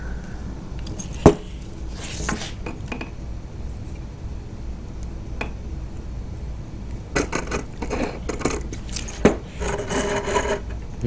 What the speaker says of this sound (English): we're going to use a file to get them all more or less the same and clean up the marks that are left from the cutoff wheel process.